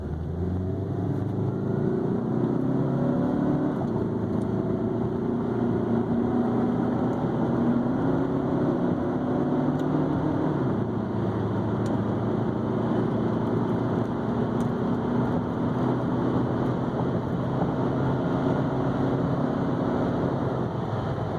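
A 2005 Saab 9-5 Arc engine with 242k miles hums and builds steadily as the car accelerates, with low rumbling tones rising in pitch over a constant road noise.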